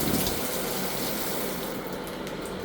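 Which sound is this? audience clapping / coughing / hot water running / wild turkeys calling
hot water running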